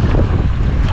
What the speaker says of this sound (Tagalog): medyo lumalakas na talaga pati hangin